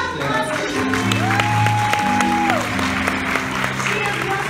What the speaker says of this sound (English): Please give a round of applause for Julie.